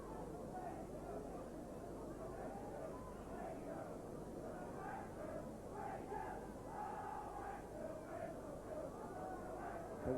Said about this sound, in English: A good sprinkling of Wakefield Trinity supporters in the crowd, singing and chanting